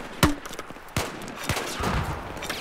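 Gunfire in the video game Battlefield 4: a few sharp, separate shots about half a second apart, fairly quiet, with some low game rumble between them.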